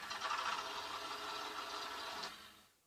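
A tractor engine in the video game Farming Simulator 17 restarts and idles, a steady mid-pitched engine hum held at a moderate level before fading away toward the end.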